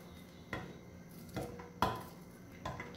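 A knife chops calabresa sausage inside a pan of beans in a home kitchen, giving three or four dull, evenly spaced knocks against the pan over low background noise.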